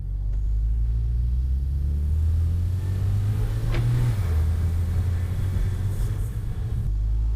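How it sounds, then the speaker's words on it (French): A tuned BMW 335 with all-wheel drive rumbles steadily as it drives, a continuous deep engine drone with a brief swell in revs midway, close and loud with no talk. "voir si je peux vous enregistrer quelques sons de cette voiture parce qu'elle fait vraiment des bruits sympas"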